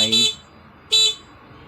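A car horn sounds during a wiring check, giving two short loud honks about three-quarters of a second apart, each a brief bright blast followed by quiet.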